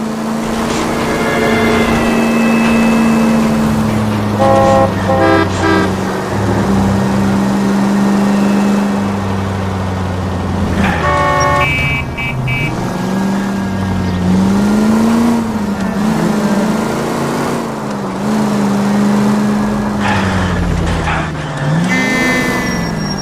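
A 1940s-style car's engine drones steadily as it pulls out of a driveway in L.A. Noire, loud and close. The engine note rises and wavers with brief revving shifts, and no voices are heard.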